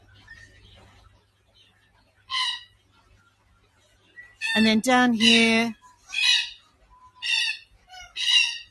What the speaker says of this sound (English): So in here we have red-tailed black cockatoos, which are up there. They're the noisy ones.